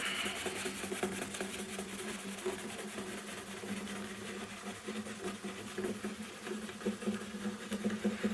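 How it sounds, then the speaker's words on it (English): A cloth rubs conditioner into a guitar fretboard, making a soft, fast, rhythmic scrubbing that stays steady and close, with no voices. "I take that cloth, where I chuck it on the floor, and just rub that in a little bit."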